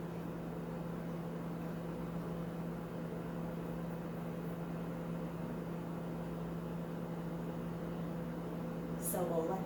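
A microwave oven runs while melting chocolate for Oreo truffles, giving a steady, even low hum that holds for the whole stretch, with a brief higher sound near the end.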